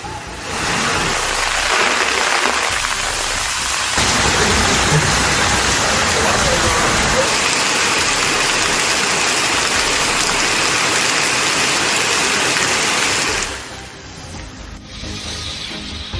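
Steady dense roar of heavy rain pouring down in Tamil Nadu, loud and continuous, easing slightly near the end.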